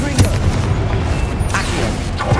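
A heavy boom of a Confringo fire spell bursts in Hogwarts Legacy on PS5, loud and rumbling, with dense low-end blasts filling the whole moment.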